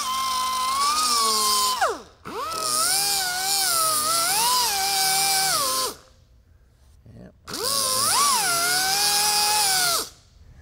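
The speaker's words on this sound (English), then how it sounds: "I'm gonna take this grinder and run right across the top of those little bumps" A grinder cuts across filler bumps on the body panel of a 1969 Dodge Charger in three loud, close bursts. Its high whine rises and dips in pitch as the load changes, with short gaps in between.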